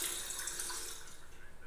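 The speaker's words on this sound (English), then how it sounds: "I drink some water from here." Water runs steadily from a sink tap in Fallout 4, a continuous close splashing hiss that fades slightly toward the end, with no talk.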